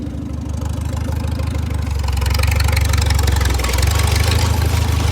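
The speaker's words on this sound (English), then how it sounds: "give us a little throttle, pull the 9-speed back" A tractor with a 9-speed H-pattern transmission pulls away in first gear to churn up a gravel area: a steady, close, loud low engine drone with throttle rising partway through and no talking.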